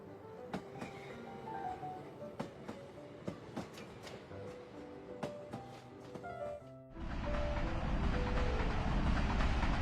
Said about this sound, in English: Iron ore train, Mauritania.